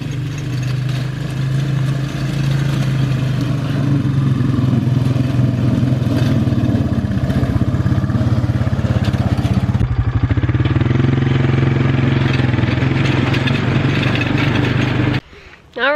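A four-wheeler ATV engine drones loudly and steadily while being driven around, with a rough, clattering mid-range rumble that shifts slightly partway through before cutting off abruptly near the end.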